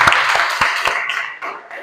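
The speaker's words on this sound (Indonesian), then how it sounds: "Tepuk tangan dulu semuanya." A classroom of students clapping for a group after its presentation: a few distinct hand claps up close at first, blending with a murmur of voices and thinning out toward the end.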